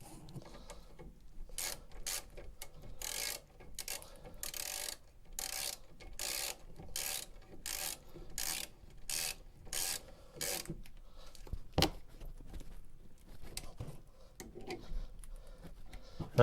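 A socket ratchet clicking in an even, rapid series of strokes on the brake caliper bolts of a VW T5 van during rear disc and pad replacement, close and crisp, then a few scattered tool knocks.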